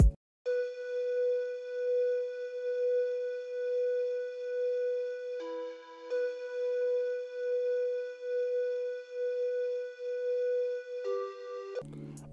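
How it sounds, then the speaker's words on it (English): A pan flute synth patch in FL Studio with reverb and EQ plays long, sustained breathy tones, holding one pitch for several seconds before stepping down and back, clean and alone. "It's a pan flute."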